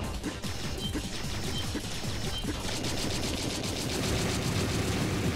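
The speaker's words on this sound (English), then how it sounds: "Keep all the explosions near his face," Rapid explosions and gunfire in the PC game Azure Striker Gunvolt, a relentless stream of crackling blasts and hits layered with sharp electronic impacts, loud and dense throughout.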